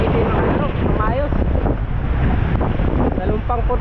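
Waves pound a wooden outrigger boat at sea in strong wind, a constant loud roar of wind buffeting and water rushing, with muffled voices talking underneath.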